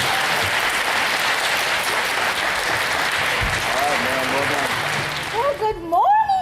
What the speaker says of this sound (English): will you help me welcome her with a big round of applause